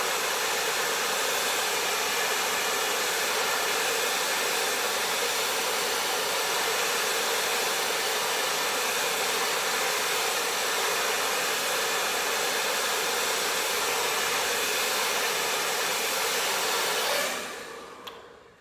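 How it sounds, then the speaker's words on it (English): A hair dryer blows continuously at close range, a steady loud whooshing roar that runs unbroken before switching off near the end. "Pick up your blow dryer again."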